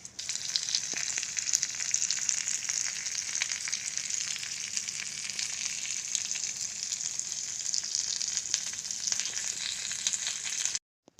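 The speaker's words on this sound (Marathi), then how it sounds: "आता अशा प्रकारे आपल्याला बाकीचे पण बांगडे फ्राय करून घ्यायचे।" Bangda mackerel fish fries in a pan with a steady, bright, crackling sizzle that holds evenly for about ten seconds, close and alone, then stops abruptly.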